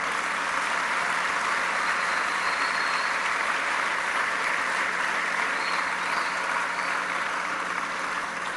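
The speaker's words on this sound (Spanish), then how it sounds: "a mi hermano Arturo Escobar y Vega, para quien pido que le demos un fuerte aplauso." Sustained, loud audience applause at a Chiapas governor's annual report speech, a steady wash of clapping from a large crowd that holds evenly throughout.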